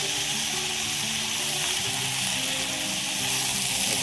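Fenugreek leaves and onion frying in a pan for methi bhaji give a loud, dense, continuous sizzle up close, with soft stirring movements running through it.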